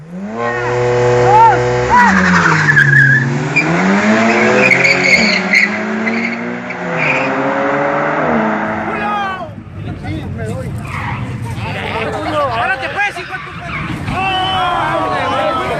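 Converted race cars in a specialized competition race, engines droning with rising and falling revs and tire noise, loud and continuous, then a harsher, rougher stretch of roaring and skidding.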